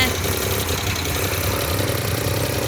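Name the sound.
Maruti Suzuki 800 engine running live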